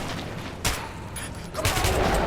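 Gunfire in Metro 2033 Redux, loud dense bursts of shots blending into a continuous roar, with two sharper blasts standing out, close and harsh.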